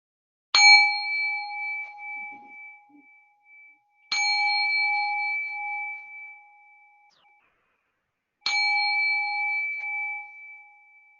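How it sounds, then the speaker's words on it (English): Meditation bell rung three times at even, spaced intervals, each strike a clear bright ding that rings out and slowly fades into silence before the next, heard alone in a quiet room. "I'm going to go ahead and ring the bell"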